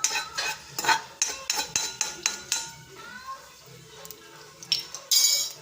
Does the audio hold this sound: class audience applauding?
no